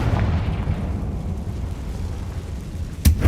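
A Confringo spell explosion in the Hogwarts Legacy video game, a rumbling low boom that decays into a sustained roar, followed by a sharp burst near the end.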